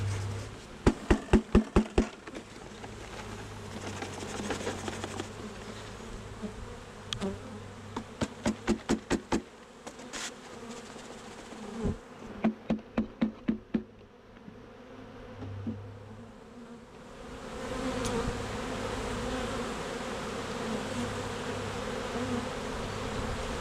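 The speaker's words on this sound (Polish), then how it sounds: "No i resztę pszczół tutaj wsypuję." Honeybees hum in a dense, continuous buzz, interrupted by bursts of rapid knocking and tapping as they are shaken into a hive.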